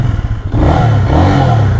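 A Hartford Leopard 223 cruiser motorcycle with a VR 220 engine starts up with a short cranking chatter, then settles into a loud, close idle with a light rev.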